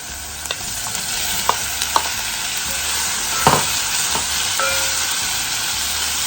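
Tomatoes tumble into a pan of sautéed onions, with a steady oil sizzle and a few sharp clacks of a utensil stirring against the pan.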